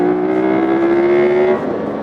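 A Ducati 916 twin-cylinder motorcycle engine revs high and holds a loud, steady tone that climbs slightly, then eases off near the end.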